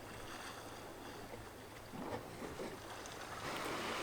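Sea water surging into a small coastal cave produces a low, muffled rumble like distant thunder, swelling and easing in waves under a steady wash of sea and faint wind on an overcast, still day.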